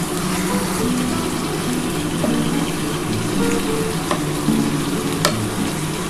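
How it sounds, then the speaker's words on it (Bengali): Chicken with papaya paste is sautéed uncovered in a pan, a constant dense sizzle with stirring scrapes and occasional sharp clicks, loud and close throughout. "আর কিন্তু ঢাকাটা দেবো না একটু কষিয়ে নিই তাহলে তলায় লেগে যেতে পারে"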